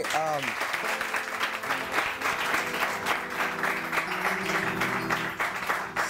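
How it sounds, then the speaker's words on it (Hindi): A studio audience on a Pakistani morning show breaks into loud, continuous applause for PK, dense clapping that holds steady throughout, with a brief sung or voiced tone at the start and a host's voice faintly underneath. "तालियां, बहुत सारी तालियां पीके के लिए भी"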